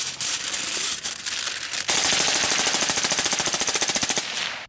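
Fully automatic suppressed gunfire rattles loud and close in long sustained bursts, the rapid shots blurring into a dense, fast, even rhythm before cutting off.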